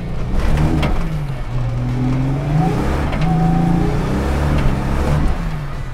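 A turbocharged six-cylinder 1980s Australian Ford Falcon XE, Dick Johnson Grand Prix Turbo, accelerates hard through first and second gear with the throttle feathered; its loud, close engine note rises, dips at the shift and climbs again, with no talking.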